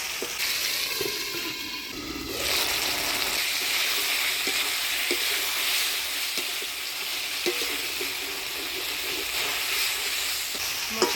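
Potatoes and flat beans sauté in a pan for a Bengali village-style curry, a steady loud sizzle with occasional stirring scrapes running throughout, no voices.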